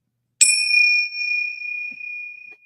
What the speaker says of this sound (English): You know, we have these bells.